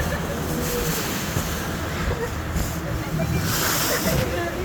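Waves slosh and splash steadily against a car ferry on open water, a constant rushing wash with wind noise throughout.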